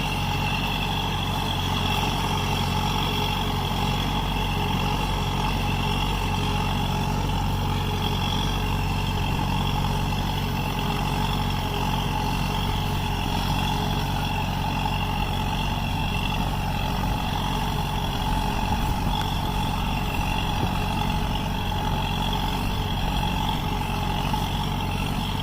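A Minneapolis Moline UB tractor pulls a 4-16 plow deep through bone-dry ground, its engine holding a steady, loud, continuous drone from start to finish with no voices.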